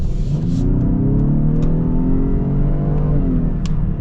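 A 2022 Lincoln Aviator Reserve with a 3-liter engine accelerates in Excite mode. The engine note rises steadily and loudly, close up, with a few brief clicks on top and no talking.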